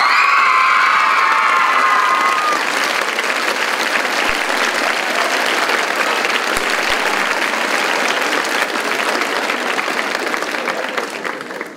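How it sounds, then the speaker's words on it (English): A school audience applauds and cheers with whoops and children's shouts after a girls' choral performance at a house music competition, loud and sustained throughout before slowly fading at the end. "could we please have a round of applause for our house music choral"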